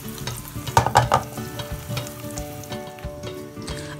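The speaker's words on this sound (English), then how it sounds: "So I usually like flavoring my oil before I put anything. So in this case, I'm using red pepper, chilies, and some garlic." Red pepper, chilies and garlic sizzle and crackle steadily in hot oil, with a few louder bursts of spattering and stirring early on before settling into a continuous close fry.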